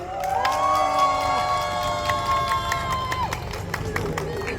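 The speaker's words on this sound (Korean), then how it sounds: "뜨거운 박수 부탁합니다" A campaign rally crowd, gathered outdoors in rainy weather to back a county governor candidate, cheers and shouts in a loud sustained roar with clapping mixed in, while a voice calls out over the noise.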